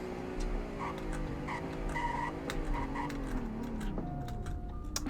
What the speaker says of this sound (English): Here's the braking test.